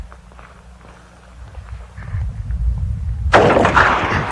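A single loud blast from a .44 Magnum revolver with a 6-inch barrel, firing a 220-grain half-jacketed solid bullet, cracks out near the end after low, rumbling handling noise, then rings on briefly.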